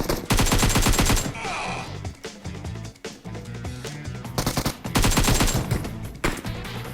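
Automatic gunfire in the PUBG Mobile game rattles in loud rapid bursts, with sustained volleys at the start and again near the end and quieter game noise between them.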